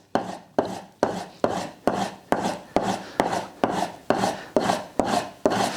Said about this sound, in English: Couple of strokes on the back, again all moving back on that leather strop.